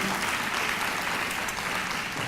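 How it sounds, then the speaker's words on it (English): An arts festival audience claps in a full, dense, continuous round of applause that holds evenly throughout. "how about one more round of applause?"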